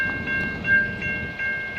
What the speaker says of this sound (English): Why does the train gotta go backwards?